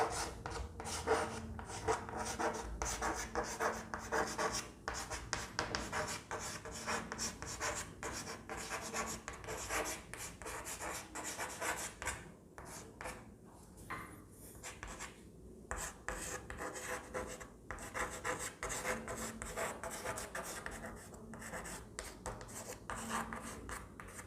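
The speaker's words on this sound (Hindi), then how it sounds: "मैं लिख देता हूँ।" Someone writes on a board in a classroom lesson, a long run of rubbing, rasping strokes in quick uneven bursts with short pauses, close and steady without talk.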